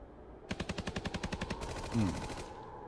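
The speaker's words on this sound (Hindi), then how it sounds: "Alpha to Tiger 1, stop firing." A machine gun fires a rapid, evenly spaced burst of about a dozen loud shots in a Punjabi movie scene, followed by a lower rumble and a brief swell of noise as the firing stops.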